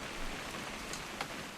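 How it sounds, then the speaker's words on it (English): Steady rain falls in the video game What Remains of Edith Finch, a dense, even hiss of drops with a faint louder patter near the end. "It's gonna rain the whole weekend, isn't it?"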